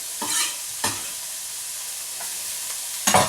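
Onion drops into a pan with a little leftover oil and fries, a low constant sizzle broken by several sharp stirring scrapes and clatters, close by.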